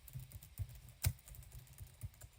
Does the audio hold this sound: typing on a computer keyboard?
yes